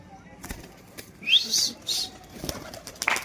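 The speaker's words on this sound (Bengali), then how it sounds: "কবুতর গুলো সব বাড়ির মাথায় চলে এসেছে" Pigeons flap their wings in several bursts, a fluttery whirring close by, with short gaps between the takeoffs.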